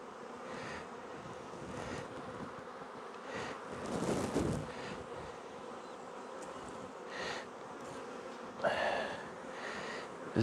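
Honey bees drone steadily in an open hive during a spring apiary check, a dense, continuous buzz with a few louder swells as bees pass close.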